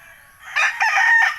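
A gamecock crows once, loud and close, a drawn-out bright call that rises and holds before trailing off.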